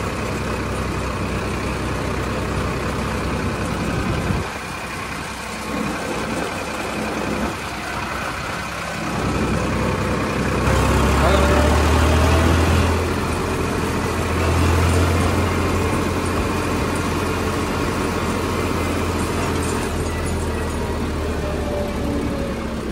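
A Farmtrack 60 tractor engine idling at a standstill on a road, a continuous low rumble close by with background noise, swelling louder midway through.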